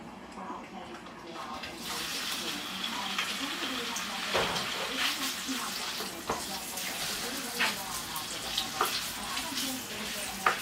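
Sausages sizzle and crackle steadily in a hot pan for spaghetti, a dense frying hiss with occasional sharp pops and spatters, close and moderately loud throughout.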